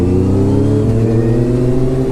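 A motorcycle engine revs hard and accelerates into a wheelie, a loud, close, steadily climbing roar with rising pitch and no voices.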